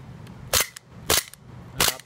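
A P99 gas blowback pistol is dry fired three times, each a sharp, loud, close metallic snap spaced evenly about half a second apart, with quieter clicks of the action between them and no talk.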